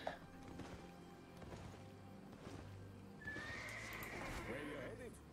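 A horse whinnies partway through a quiet stretch of the online role-playing game Albion Online, drawn out over low background game sound with a faint voice present.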